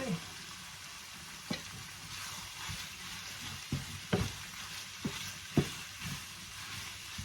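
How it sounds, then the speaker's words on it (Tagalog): Chicken pieces fry in a small amount of oil, giving a soft, steady sizzle broken by several sharp clacks and scrapes of a utensil stirring in the pan, fairly quiet throughout. "So fry lang natin kaunti."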